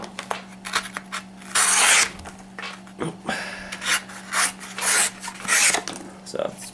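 The edge of a Lady Finger knife, a recurved camping blade, is drawn through material in a cut test, making a series of short raspy slicing strokes of varying length over a low steady hum.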